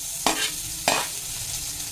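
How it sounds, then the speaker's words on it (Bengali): Spices and freshly grated ginger fry in hot oil in a pan, giving a steady close sizzle broken by two sharp scraping stirs of a spoon. "ফোড়নটাকে আমি ভালো করে নেড়ে চেড়ে একটু ভেজে নিচ্ছি।"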